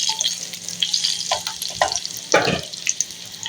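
Spices for a tadka sizzle and crackle in hot oil for a lauki raita, a steady close frying hiss with sharper pops and a louder burst near the end.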